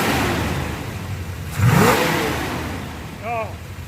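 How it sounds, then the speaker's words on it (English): A 1972 Chevy Corvette engine idling, then a quick rev that swells and falls back to a smooth idle, close and fairly loud, with a brief higher whir near the end. "Did you just hear the idle kick up?"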